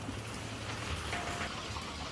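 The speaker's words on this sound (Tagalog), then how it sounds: "yung pabugso-bugso na naman ang hangin at ulan dito sa amin" Steady rain with a gusting wind rushing over it, a continuous broadband hiss at moderate level with no voices.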